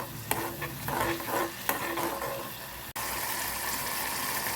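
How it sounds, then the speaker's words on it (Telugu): Vegetable manchurian mixture stirred and frying in hot oil for a spicy veg manchuria dish, a steady close sizzle with scraping stirs and a few sharp clinks, the frying noise continuing alone without talk. "ఇదంతా బాగా ఫ్రై చేయాలి"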